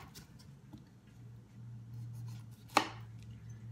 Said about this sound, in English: And then I take my knife and on an angle, I cut down into the fleshy part.